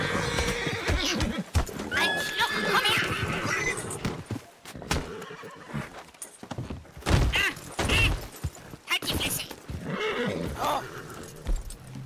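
Horses neigh and whinny amid clip-clopping hooves in a German-language roleplay game, the sounds loud and overlapping with bursts of commotion.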